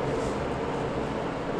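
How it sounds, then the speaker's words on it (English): A steady, close whoosh of a kitchen exhaust hood fan roars without a break during a home beer brew day, broad and even, no talking. "excuse the noise from the exhaust hood running right above me"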